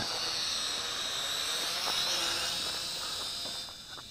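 Whining rotor buzz of a small quadcopter drone flown out and back during a flying lesson, a steady high hiss-like drone that swells slightly as it passes and then fades as it moves away.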